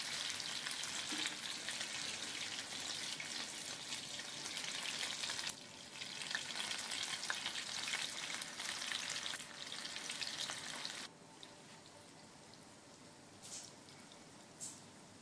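Fish-oil fritters (macher tel bora) fry in white oil with a dense, steady crackling sizzle, loud through the first half, then dropping quieter after a pause, with occasional sharper pops near the end.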